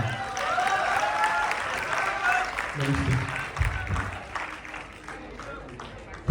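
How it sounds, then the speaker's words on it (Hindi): A crowd at an open mic poetry event claps after a recitation, a sustained wash of applause that fades toward the end, with voices mixed in. "एक बार जोरदार ताली, बहुत खूबसूरत है।"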